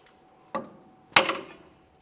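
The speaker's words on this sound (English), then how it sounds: "I'm going to tap on the far end of a pry bar with a hammer, breaking this free" Two sharp metallic taps, a hammer striking a pry bar while freeing a 2008-2017 Mitsubishi Lancer front inner tie rod, the second harder, each with a short ringing decay in a quiet space.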